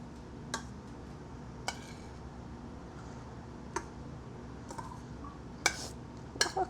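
A spoon scooping cooked rice for Kerala kuzhimanthi in a pot, heard as sparse, quiet metallic clinks and taps spaced a second or so apart, with a quick cluster near the end.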